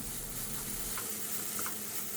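Shredded cabbage stir-fried in a hot pan for vegetable spring rolls, giving a steady continuous sizzle with a few faint scrapes of stirring, close and even throughout, no voices.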